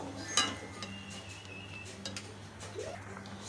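A spoon stirs grated coconut and salt in a metal cooking pot, giving faint scraping and clinking taps against the metal, with one sharper clink early, over a low kitchen hum.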